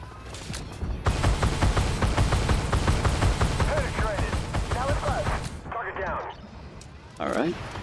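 Rapid bursts of cannon fire from a K-21 infantry fighting vehicle in the tank game Armored Warfare, a loud steady run of shots for several seconds followed by scattered engine and impact noise, with a voice heard at points.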